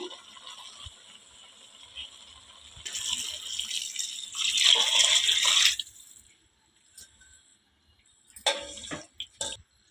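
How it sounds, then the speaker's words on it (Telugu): Water splashes and pours into a pot of radish sambar in a short burst, then trickles, with a few quieter clatters afterward; no voices. "ఇప్పుడైతే ఎన్ని నీళ్ళు అవసరమో అన్ని నీళ్ళు అయితే వేసుకుందాము."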